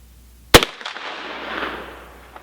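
A single sharp rifle shot from a 300 AAC Blackout firing a 245 grain lead reload, loud and close, followed by a fading rolling echo.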